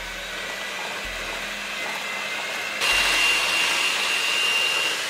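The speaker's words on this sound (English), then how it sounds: "combine this in a bowl with our electronic mixer until it becomes like a nice battery consistency" Electric hand mixer whirring in a bowl of keto cream cheese pancake batter, a steady close motor hum that steps up to a higher, louder speed partway through.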